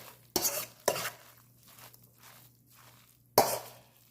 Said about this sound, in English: And just mix that up.